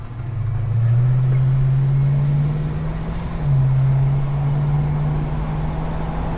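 A car drives with the window down, giving a loud steady engine drone and wind rush that swells and eases as the engine note shifts, with no voices.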